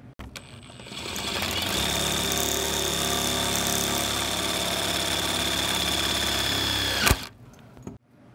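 A power drill whirs steadily for several seconds while driving self-tapping screws into a metal striker plate for a lockable gate latch, with a high sustained motor whine that cuts off abruptly near the end.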